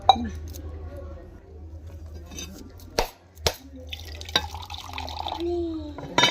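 A coconut is cracked open with a few sharp hard knocks and clinks. Water then trickles and drips out, and a person talks in between.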